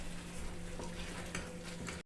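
Oil heating in a kitchen pan while cooking for a Mata Rani prasad meal, giving a steady soft sizzle with light stirring clinks, moderately quiet and without talking.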